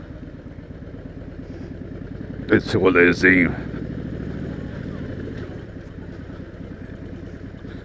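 A Harley-Davidson Dyna FXD motorcycle engine idles with a steady low rumble throughout, while someone speaks briefly over it near the middle.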